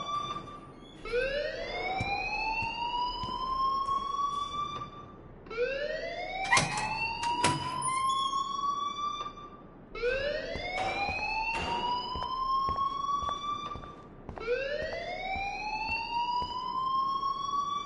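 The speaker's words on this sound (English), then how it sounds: "please turn off that alarm since that's your job" A repeating electronic school alarm from the video game Life Is Strange wails through four rising sweeps, each climbing then holding, loud and steady with no talking.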